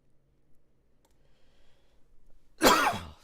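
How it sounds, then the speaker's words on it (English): After a quiet stretch with faint clicks, a single sharp, close cough bursts out near the end, lingering with a brief rough tail. "Still have a little cough."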